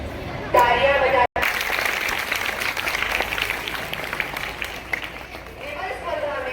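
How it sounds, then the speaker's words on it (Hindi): An audience at a school award ceremony claps in sustained, dense applause, with a voice heard briefly at the start and the end. "तालियां बजा।"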